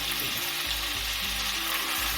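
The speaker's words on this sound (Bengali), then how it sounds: "রসুন ও কাঁচা লঙ্কা ও আদার পেস্ট দিয়ে দিলাম" Garlic, ginger and green chilli paste sizzles in hot oil in a pan for restaurant-style egg chilli, a continuous close frying hiss with soft stirring scrapes.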